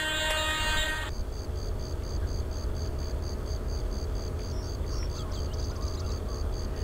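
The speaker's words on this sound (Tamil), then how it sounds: "ஸோ மைசூர் எக்ஸ்பிரஸ் இப்போதைக்கு வாஞ்சி மணியாச்சி ஜங்ஷன்லேருந்து கிளம்பிட்டு இருக்கு." The Mysore Express pulls away from a station in Microsoft Train Simulator, with a steady heavy rumble of the train and a rhythmic high pulsing tone, plus a brief bright burst at the start.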